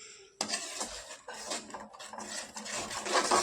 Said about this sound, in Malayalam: മുട്ട ആഡ് ചെയ്യാം. മിക്സ് ചെയ്യാം.